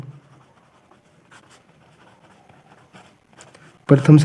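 Pen scratching out a class 10 math solution on paper, faint and steady with small strokes and pauses, before a sudden louder burst of a voice at the end.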